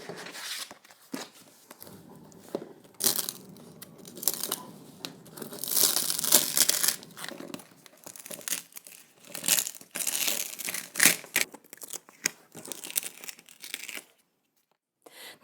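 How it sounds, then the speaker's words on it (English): Heat transfer vinyl being weeded from a cut decal for a straw sun hat, with steady crinkling and peeling rustles that come close up in irregular bursts and then stop near the end. "Now it's time to weed our decal."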